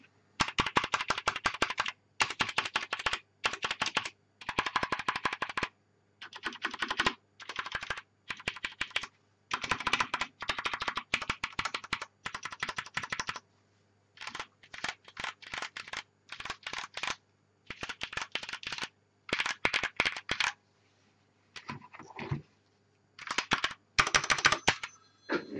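Vintage Bull QUESTAR 205 mechanical terminal keyboard being typed on, crisp close clacking keystrokes in quick bursts separated by short pauses, with no voices.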